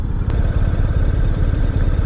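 A 2022 Honda X-ADV engine idles close by at just under 1,000 rpm with a steady, low, throbbing rumble and fast, even pulses, plus a light mechanical clatter on top.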